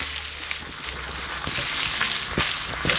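Pork belly and liver frying in a pan, a loud, close, continuous sizzle with occasional pops and stirring scrapes, no talking over it.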